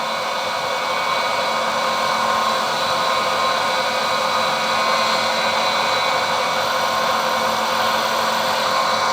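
A cheap Banggood machine runs flat out at about 3,500 RPM while turning a small steam brake cylinder drain valve part, giving a steady, loud, unbroken motor whir with no pauses.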